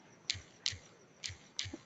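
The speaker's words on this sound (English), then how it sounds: "Okay, sorry guys, don't mind my typing." Four soft, crisp key clicks tap out at an uneven pace, close and quiet, with a faint hum behind them.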